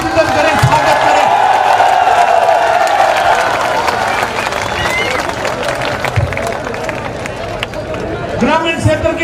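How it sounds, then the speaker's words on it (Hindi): A crowd applauding and cheering to welcome Rajasthan Chief Minister Ashok Gehlot at a political gathering in Nawa, sustained loud clapping mixed with crowd noise and a voice over a loudspeaker, which fades then surges again near the end. "जोरदार तालियां बजाकर उनका अभिनंदन करें, स्वागत करें।"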